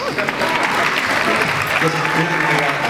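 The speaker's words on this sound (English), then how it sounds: "I got applause for being able to think." An audience at a Comic-Con panel applauds loudly and steadily, with crowd noise and a voice speaking over the clapping.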